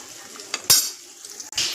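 Onion and curry leaves fry in a pan with a soft sizzle, broken by a few sharp stirring clinks and scrapes against the metal, close and moderately loud with no voices.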